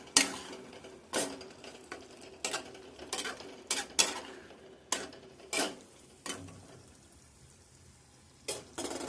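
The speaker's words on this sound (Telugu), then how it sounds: "వేసేసుకుని ఒకసారి కలుపుకోవాలి." A spoon scrapes and clinks against a pan while drumstick masala curry with coriander is stirred, with irregular metallic knocks every second or so over a faint sizzle.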